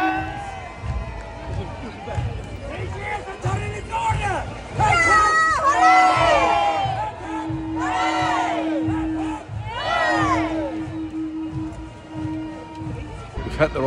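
Crowd noise at the Edinburgh Hogmanay torchlight parade on the Royal Mile: steady outdoor hubbub with shouts, cheers and drum-like thumps, while a voice talks over it close by.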